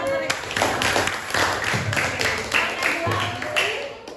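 Classroom group clapping in a school lesson setting, a few bursts of rhythmic hand claps with a voice speaking over them at moderate loudness.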